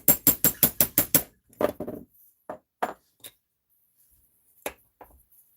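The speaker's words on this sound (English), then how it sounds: "Grab my punch, put it there, give it a couple of love taps." A hammer taps a punch near a vise: a quick run of seven sharp metallic strikes in even rhythm, then a few scattered clinks and knocks with short pauses between, close and crisp.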